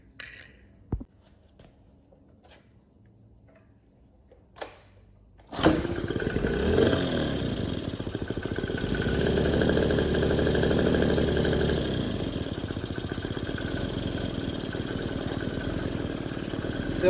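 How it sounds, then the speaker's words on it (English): A carbureted engine that still needs carb tuning coughs, then fires up after a few clicks and runs with a somewhat uneven, lumpy idle close by, continuing steadily to the end. "Still got some carb work to do to get it running really happy"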